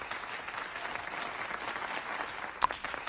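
A small group claps in a steady, soft patter of applause that continues throughout, fairly distant and low in level, with one sharper clap near the end.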